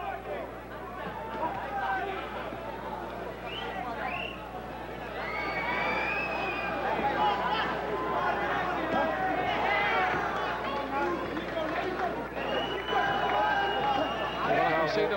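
Boxing arena crowd at Prince Naseem Hamed's fight against Calvo, a dense, loud, continuous roar of massed voices and jeering that swells slightly in the second half, with voices over the top.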